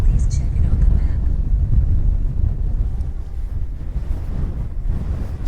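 Strong gusting wind buffets the microphone while a DJI Mini 2 drone launches outdoors, a loud continuous low rumble throughout with no clear voices.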